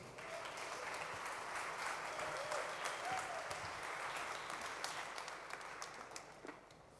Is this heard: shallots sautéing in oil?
no